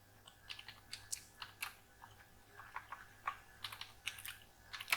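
A Google search is typed on a computer keyboard as quiet, irregular clusters of key clicks with short pauses, close by and alone.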